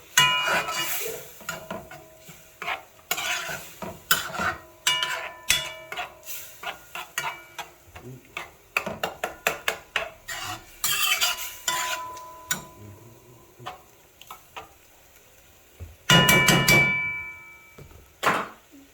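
Rice with pigeon peas is stir-fried in a pan, with a steady run of close clanks, scrapes and taps of a utensil against metal, with brief bursts of louder clatter and no talk.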